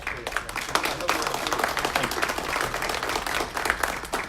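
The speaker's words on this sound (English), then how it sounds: "We'll give another round of applause to Jim Bolton." An audience applauds Jim Bolton after a talk, a steady wash of dense clapping heard at moderate distance with some voices mixed in.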